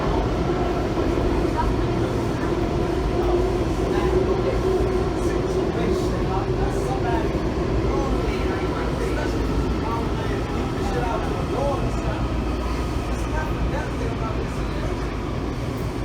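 A Washington Metro train made up of Kawasaki 7000-series cars rumbles along steadily uphill with a dense low roar and rattling, with faint talk underneath throughout.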